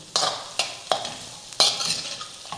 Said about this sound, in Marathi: आता यामध्ये घालायचं आहे बारीक चिरलेला कांदा थोडंसं मीठ घालूयात म्हणजे कांदा पटकन परतला जाईल